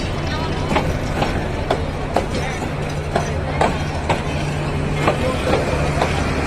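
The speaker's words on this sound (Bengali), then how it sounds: "তাই ট্রেনটা যাইতেছে, ভিডিও করলাম" A passenger train rolls past the Joydebpur rail gate, with a loud steady rumble and regular clacking of wheels over rail joints, and a low hum running underneath.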